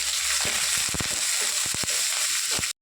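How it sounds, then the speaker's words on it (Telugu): Green chillies sizzle and fry in hot oil in a home kitchen pan, a steady close crackle with sharp pops and spatters scattered throughout, no voices. "ఒక పచ్చిమిరపకాయలు ఫ్రై చేసుకున్నాం"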